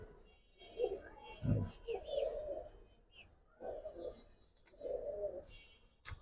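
Giribaz pigeons at a pigeon sale coo in several soft, rolling bursts, close by, with people talking around them.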